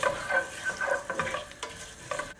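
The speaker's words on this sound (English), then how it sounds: "Just going to let them sizzle so that it flavors the oil nicely" Quiet sizzling and crackling of curry leaves frying in hot oil, with soft popping bursts and the scrape of stirring.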